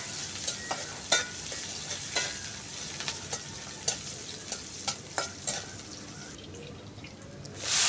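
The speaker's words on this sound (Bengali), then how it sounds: "এখন দিয়ে দিব রসুন কুচি, পেঁয়াজ কুচি, রসুন কুচিটা হালকা বাদামি কালার করে নিব।" Chopped garlic and onion with dried chilies fry in soybean oil for village-style dal, a soft steady sizzle broken by scattered sharp stirring clinks and scrapes, fairly quiet with no talk.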